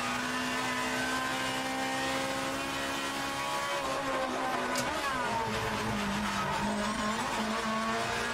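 A race car brakes hard on track as its tires squeal and skid over a loud, shifting engine note, sustained and close.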